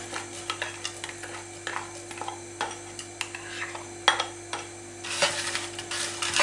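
Chopped onion fries in olive oil, with a soft sizzle under irregular clicks and scrapes of stirring in the pan, close by and quiet.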